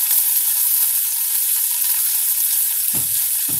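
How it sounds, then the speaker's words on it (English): Chicken breast sizzles steadily in a hot pan while cooking for chicken marsala, a loud continuous frying hiss with a couple of soft low thumps near the end and no talking. "So our chicken breast is cooking good."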